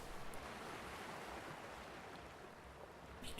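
Gentle sea waves wash continuously with a soft wind rushing over them, a steady broadband hiss heard from a sailing boat at sea, faint and with no voices.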